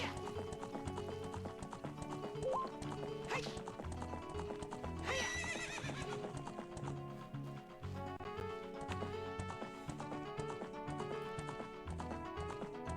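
Horse galloping in a Zelda video game, a quick rhythmic clip-clop of hooves with a whinny, set over steady game music.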